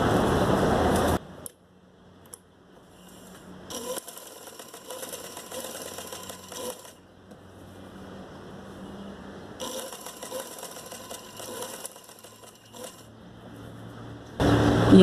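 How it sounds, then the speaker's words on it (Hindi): A sewing machine stitches a square neckline on a garment, whirring in several bursts of mechanical clatter between quiet pauses, with louder noise at the start and end; no talking is heard. "यहाँ तक हम सिलाई करेंगे।"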